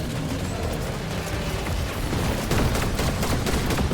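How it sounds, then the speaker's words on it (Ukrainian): Sustained Fortnite gunfire during a Chapter 3 Season final live event, a dense barrage of shots and booms that swells louder in the second half, with no talking. "Так, стріляємо, стріляємо, стріляємо."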